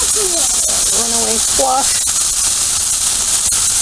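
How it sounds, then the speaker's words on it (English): Scallops sear on a Blackstone griddle, giving off a continuous hiss and sizzle. A person talks briefly over the cooking noise. "Oh, we are already getting seared up on these guys."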